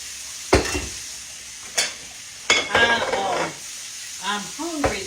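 Hamburger steak fries in a skillet, with a steady soft sizzle broken by several distinct scraping and stirring clatters of a utensil against the pan, close by and without speech.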